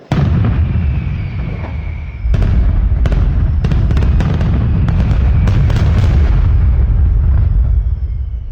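A fire crackles loudly and densely, bursting into rapid, overlapping pops like popcorn, with sharper snaps scattered through a continuous roar and no voices.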